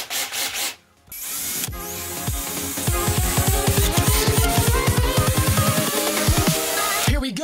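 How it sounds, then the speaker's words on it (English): Power drill with a whisk attachment mixing thinned Farrow & Ball paint in a container, a loud steady whirring with rhythmic churning knocks, starting after a brief pause and running continuously up close. "I'm going to whisk that up."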